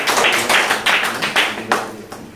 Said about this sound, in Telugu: అందరం చప్పట్లు కొడదాం ప్రియులారా గట్టిగా